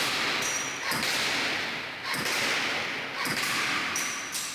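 Airsoft replica firing practice shots at a target about 15 metres away, with four sharp snapping shots spaced about a second apart over a steady background hiss.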